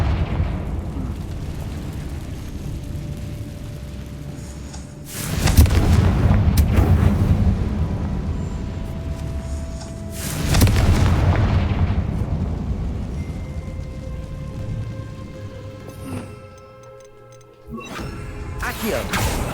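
Confringo spell blasts in Hogwarts Legacy, two heavy booming explosions a few seconds apart with a rumbling tail, then a third burst at the end, over continuous game ambience.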